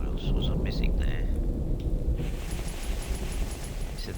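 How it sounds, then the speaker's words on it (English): Thunderstorm in the video game The Infected: a deep, continuous rolling rumble of thunder with a steady rain-like hiss, fairly loud throughout, with faint voice-like sounds early on. "Hear a bit of a storm coming in,"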